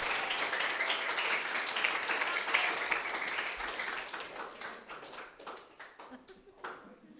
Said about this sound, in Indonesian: boleh dong kita berikan tepuk tangan untuk Bu Sondang